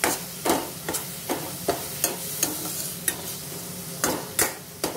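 Ginger-garlic masala with turmeric being stirred in a pan over low heat, a spoon scraping in about a dozen sharp, regular strokes over a soft, steady sizzle.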